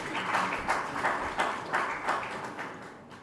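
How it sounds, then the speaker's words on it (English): A small audience at a startup pitch event claps, the dense patter swelling in several brief waves over steady room noise, fairly distant and moderate in volume. "So let's pepper him with some claps."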